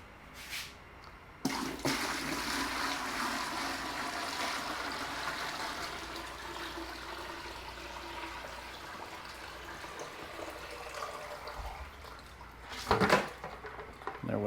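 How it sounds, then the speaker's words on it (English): Water from a container is dumped into a bucket fitted with a grit guard, a splashing pour that starts abruptly and trickles on for several seconds, followed by a brief clatter, with no talking. "I'll usually bring this water from my apartment and then just dump it into here"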